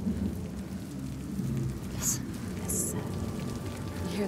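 Heavy rain from a storm in the video game Hellblade 2 hisses steadily, with a dense wash of low rumble underneath and a couple of brief brighter splashes, continuous throughout.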